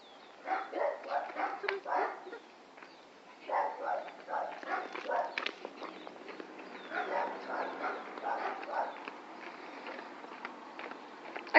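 A dog barks and yips in repeated bursts outdoors, moderately near, with short pauses between volleys and some faint background rustling.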